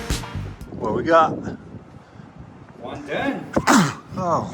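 A person sneezes sharply in a car wash under renovation, one quick burst near the microphone, with people talking around it.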